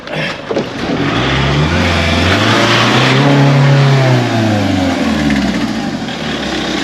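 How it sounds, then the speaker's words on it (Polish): A car engine revs loudly and steadily as the vehicle reverses and then pulls away, the tone rising and falling close by, with no talk over it. "Ja już wyjeżdżam, cofam samochodem, już wyjeżdżam."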